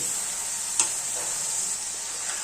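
Tomatoes frying in a tadka for Punjabi sarson ka saag, a steady even sizzle with a single brief clink early on and no talking.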